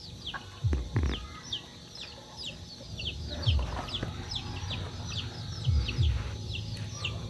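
Chickens cluck repeatedly outdoors near a home where charcoal is being made, with short clucks and a few louder low calls scattered over a steady background of birdsong and ambient noise.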